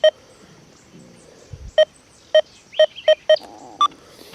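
A Deus 2 metal detector in full tones mode gives a series of short electronic beeps, mostly at the same pitch with one higher tone near the end, spaced irregularly, clear and close with soft background noise.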